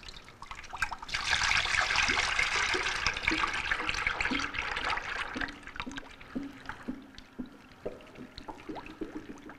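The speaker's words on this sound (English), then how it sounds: "You're gonna grab your bucket of mix and you're gonna slowly pour it into the top of the machine." Soft serve ice cream mix is poured from a bucket into the top hopper of a machine, a steady liquid rush that thins into gurgles and dripping splashes.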